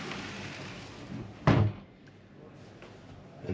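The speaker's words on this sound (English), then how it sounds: "another sliding pocket door there. You can pull it out, all mirrored in this case." A mirrored sliding pocket door aboard a Ferretti 860 luxury motor yacht, leading to an ensuite bathroom, gives a single firm thud as it slides shut, then a faint knock near the end in a quiet interior.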